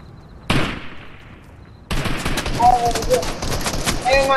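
Video game gunfire, a sharp shot then a sustained rapid burst of automatic fire, loud and close, with a player's voice talking over it.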